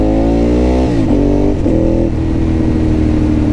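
Motorcycle engine revving hard and accelerating through several gear changes, loud and close, harmonics climbing then dropping at each of about three shifts.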